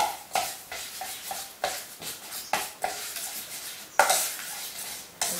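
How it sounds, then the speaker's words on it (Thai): White sesame seeds being stirred into a flour batter for vegan fried pumpkin fritters, a repeated scraping swish of the spoon through the mix at a steady rhythm, close and moderately loud with no voices. "ผสมให้เข้ากันกับแป้งนะคะ"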